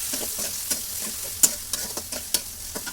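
Garlic and spices such as cinnamon frying in a pan for chuijhal khichuri, a steady close sizzle broken by sharp scrapes of a spoon stirring at irregular intervals, with no talking.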